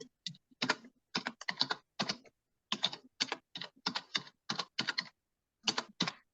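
Someone types a title into a PowerPoint slide on a computer keyboard. Crisp, close keystroke clicks come in quick irregular clusters with brief gaps, in an otherwise quiet room.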